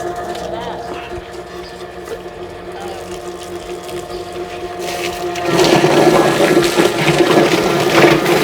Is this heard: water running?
yes